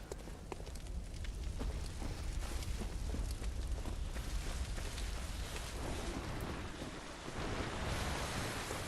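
Water in Bloodborne laps and washes in a steady surf-like rush, blended with wind-like ambience, continuous and fairly quiet throughout.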